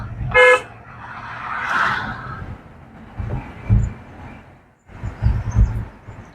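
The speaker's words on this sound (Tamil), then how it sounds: "Horn one more." A short, sharp car horn toot near the start, then road and engine noise with passing vehicle sounds.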